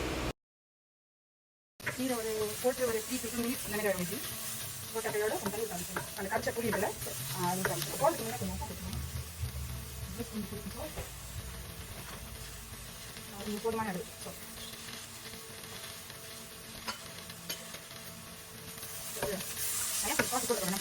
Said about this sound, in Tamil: ஸோ இதை வதக்குறேன்.